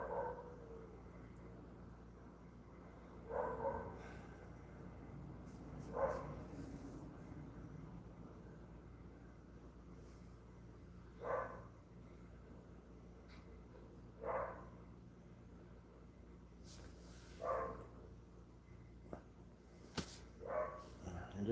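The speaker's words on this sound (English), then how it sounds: "So you don't have to hear barking. This is my dog." A dog barking at home during a Tuesday night live chat: single faint barks repeat every few seconds across the stretch, distant and soft over a steady low background hum.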